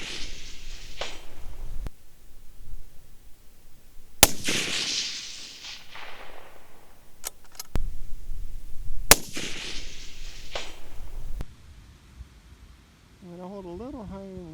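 Rifle shots fired from a bipod outdoors, several sharp loud cracks spaced seconds apart, each followed by a rolling echo, with quieter stretches and a brief warbling electronic tone near the end.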